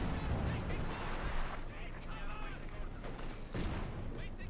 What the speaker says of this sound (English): Flak happening in there.